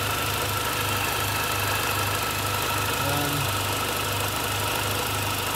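An R53 Mini Cooper S JCW engine, just started after months unused, idles steadily with a low, even rumble and faint rhythmic ticking, continuous throughout with no talking.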